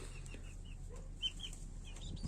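Chickens cluck and call softly in a backyard coop, a few short scattered notes over a low steady hum, faint and without voices.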